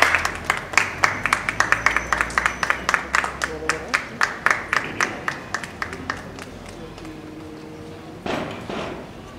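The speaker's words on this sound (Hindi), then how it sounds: "और तालियां भाई" An audience at a hospital event applauds with a run of loud, evenly spaced claps close by. The clapping thins out and fades, and then a few scattered knocks and voices follow.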